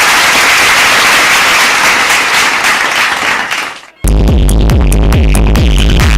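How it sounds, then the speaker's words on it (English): An awards ceremony crowd applauds and cheers loudly in a dense, sustained roar, then the sound cuts abruptly to pounding celebratory music with a steady thumping beat. "Big loud cheer"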